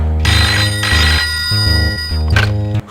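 A telephone rings loudly and close, in repeated electronic bursts with short gaps between them, with no talking.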